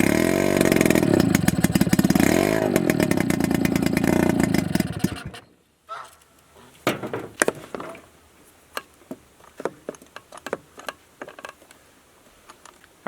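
A small engine runs loud and steady with a rattling drone, then cuts out abruptly as fogging oil is sprayed into the carburetor; scattered clicks and clatters follow in the quiet.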